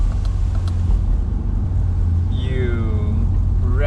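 BMW E93 M3 with a 4.0L V8 engine, driven with the top down, gives a steady loud low rumble from inside the car, with a rising rev sweep toward the end.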